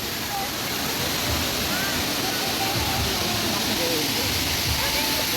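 Hinulugang Taktak waterfall in Antipolo roars as a steady, broadband rush of falling water, constant and moderately loud throughout, with faint voices and bird-like chirps scattered over it.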